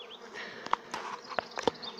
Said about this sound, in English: there's a nook here with a swarm that's about to go into it, or they're trying to get into it